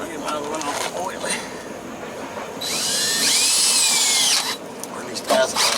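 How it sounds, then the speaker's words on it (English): An old power drill whirs steadily for a couple of seconds, loud and close, between stretches of quieter handling noise, during truck work. "these jobs here use my old drill that I had a long time ago"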